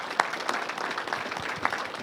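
An audience applauds at a public speaking event, a dense, steady patter of many hands clapping together that fills the whole stretch.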